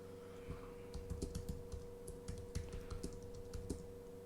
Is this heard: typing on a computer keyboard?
yes